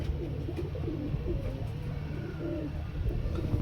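Giribaz pigeons cooing softly in a loft housing breeding pairs, low steady murmuring coos over a faint constant background hum, with no voices.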